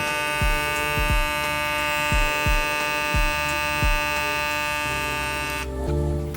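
VGR V-015 hair clippers with a vector motor rated around 9,000 RPM run with a steady high-pitched electric buzz, while a series of sharp thumps or knocks sound over it before the motor cuts out near the end.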